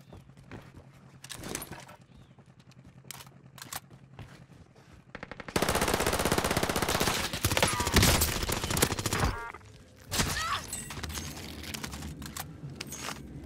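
Rapid automatic gunfire in Call of Duty on Rebirth Island, with scattered single shots and clicks at first, then a loud, dense burst of sustained firing, a brief pause, and renewed shooting at close range.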